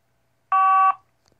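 An old Motorola bag phone gives a single steady electronic beep, lasting under half a second, as it powers on; clear and alone in an otherwise silent room.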